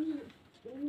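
High-flying pigeons kept for sale coo close by: two rolling, throaty coo phrases with a soft pause between them.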